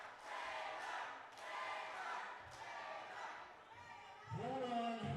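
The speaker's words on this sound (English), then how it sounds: "Wow, this crowd, this capacity crowd tonight." Capacity crowd at an indie wrestling show, a dense wash of cheering and shouting voices rising in swells, with a brief loud vocal burst near the end.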